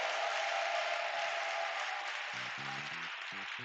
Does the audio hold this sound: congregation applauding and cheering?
yes